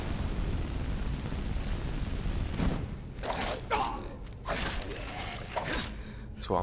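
Fire crackling and roaring steadily in Skyrim, a broad rumbling burn close by with bursts and creaks rising over it, and a voice briefly heard partway through.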